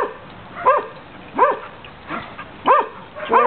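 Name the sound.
dogs barking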